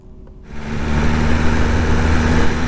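A 2022 BMW M1000RR motorcycle engine runs with the pit lane limiter active, opening with a quiet idle before the throttle is given and the revs climb to a loud, steady, rev-limited drone close by.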